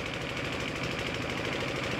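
Motor boat engine on a boat trip around a densely forested island, a steady close droning rumble with constant vibration and no pauses, running alone without voices.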